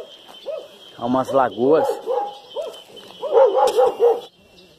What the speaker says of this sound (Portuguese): Já tô vendo cachorro pra todo lado.